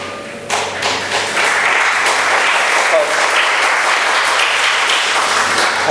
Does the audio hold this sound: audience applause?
yes